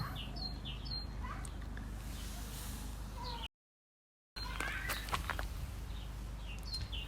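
A pet bird chirps in short, bright bursts at close range inside a quiet room, the calls scattered and brief with a short silent gap partway through.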